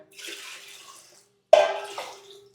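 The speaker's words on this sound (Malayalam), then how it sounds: "ഈ വെള്ളം എടുത്ത് ഒഴിക്കാം" Water pours in two short bursts with a gap between them, splashing into a vessel close by.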